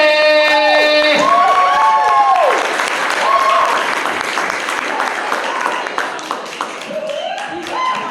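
Club crowd applauding and cheering for comedian Jackie Rapetti at The Loft Dance Club, a loud burst of clapping and whoops at first, easing toward the end, with voices calling out over it.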